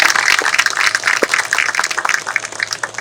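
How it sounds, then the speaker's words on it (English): An audience at a county building dedication ceremony applauds, a dense, even patter of many hands clapping for a few seconds without pause. "Let's give her a round of applause."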